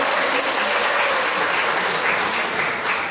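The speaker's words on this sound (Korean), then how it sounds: "다시 한번 오늘 참석해주신 네 분들께 큰 박수 부탁드립니다" An audience claps steadily and loudly throughout, a dense sustained round of applause at a Korean arboretum forum as four panelists are welcomed.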